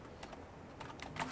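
Computer keyboard typing a sentence: a few quick, faint, close key clicks in a soft irregular rhythm over a quiet room hiss.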